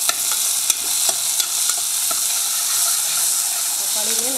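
Chopped onion and tomato sautéing in a pan for mushroom kurma give a steady soft sizzle with a few stirring clinks, close and even, with a faint voice near the end.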